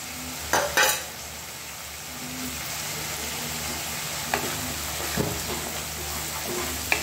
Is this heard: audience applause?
no